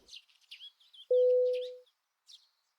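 Small birds chirp in several short, high twittering bursts, fairly near, broken by a steady electronic tone that holds for under a second midway.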